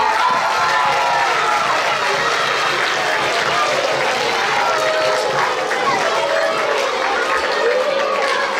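Audience applauds and cheers for Rui's magic tricks at a school talent show, a dense, steady wash of clapping and crowd noise that holds loud and unbroken throughout.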